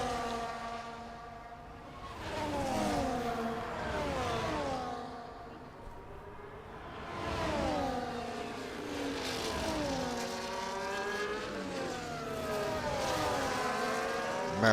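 Race cars overtaking on the Brazil circuit in a sim racing video game, with several engine notes climbing and falling as the cars pass in waves, fairly loud and continuous across the whole stretch.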